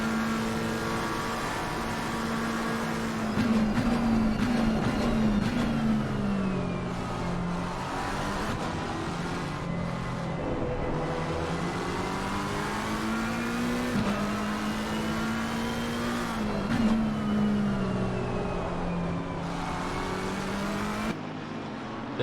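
Race cars lapping the Indianapolis road course, engines howling and shifting up and down through the gears, several cars running close together, loud and continuous with pitch rising and falling through corners.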